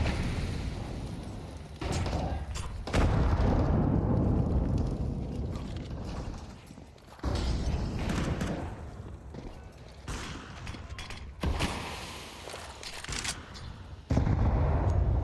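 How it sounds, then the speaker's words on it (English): Grenades exploding during a competitive video game match, heavy booming blasts and sustained rumbling with sudden loud onsets and dense continuous fire between them, without speech. "As the nades go out."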